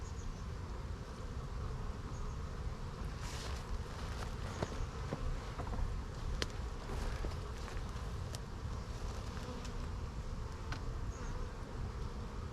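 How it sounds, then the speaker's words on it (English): Honeybees buzz around an opened hive during a spring inspection, a steady low drone of many wings close by with occasional sharper passes of single bees and faint handling clicks. "Let's get this one little bee to fly away."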